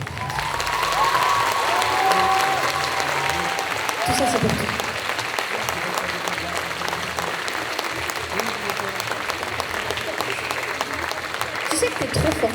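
Loud, sustained applause and some cheering from a convention audience for a cosplayer at a French game show cosplay parade, continuing throughout while a host speaks over it.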